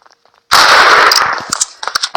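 Gunfire in the video game Murder game: a loud, dense burst erupts after a short quiet, fades, and gives way to scattered sharp shots and clanks.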